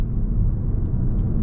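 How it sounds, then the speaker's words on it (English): Steady low rumble of a Vauxhall Astra GS Line's 1.2 turbo engine on the move, a continuous, even drone with road noise and no voices. "the engine's got a lot of spirit."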